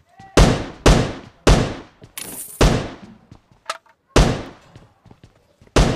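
Video game gunfire rings out as a series of sharp, loud single shots spaced irregularly, each with a quick decaying tail, with a few softer thuds between them and no talking.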